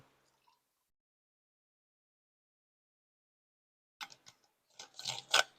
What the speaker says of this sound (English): I'm gonna pour myself a fresh cup of coffee